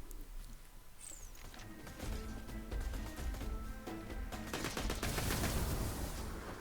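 Gunfire at targets in Borderlands: from about two seconds in, bursts of rapid, loud automatic shots come close together, over a bed of game ambience with a faint whistling tone early on, and no speech.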